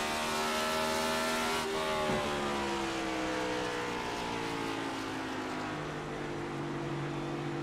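A race car in iRacing's Cup Series at New Hampshire, downshifting into a corner: loud engine drone whose pitch steps down sharply, then keeps falling as the car slows, with the engine close and steady throughout.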